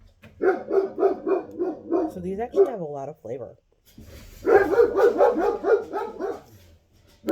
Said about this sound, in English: My dogs were going nuts, so sorry if you heard some barking.